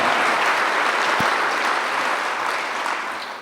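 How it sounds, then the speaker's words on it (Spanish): A church congregation claps and cheers loudly and steadily, the applause filling the room and tapering slightly toward the end. "Denle un aplauso."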